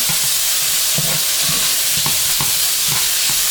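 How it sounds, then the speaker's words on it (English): Thyme sizzling in hot oil for Jamaican brown stew chicken, stirred in the pot; a loud, steady close sizzle with repeated scraping stir strokes throughout. "I just want the flavor from the thyme to infuse in that oil. Stir it around."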